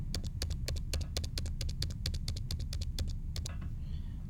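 Rapid keystrokes on a computer keyboard as a card number is entered, a steady run of about twenty crisp clicks close to the microphone over low background hum, stopping just before the end.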